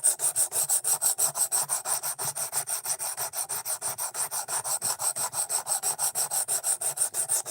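A knife edge is stroked steadily across a 220 grit sharpening stone, giving a close, even rhythm of about five raspy rubbing strokes per second that carries on without pause and with no talking.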